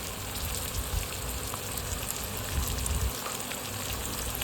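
Steady crackling sizzle of poha ingredients with green peas and turmeric frying in a pan, a continuous close hiss with small pops and no talking.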